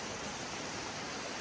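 Steady, close rush of a waterfall beside a hammock campsite along the Idaho backcountry route, a dense, unbroken roar with no breaks or voices throughout.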